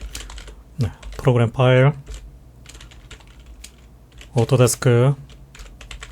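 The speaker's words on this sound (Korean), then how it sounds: "윈도우 탐색기를 띄워서 파일 패스 경로상에서 다음같이 타이핑을 해줍니다" Typing on a computer keyboard to enter a file path into Windows Explorer, a soft run of key clicks close by under a man's speech.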